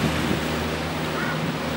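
Ocean waves and current wash up on rocks at the Spit, a steady dense roar with wind buffeting the microphone and a low boat engine hum beneath.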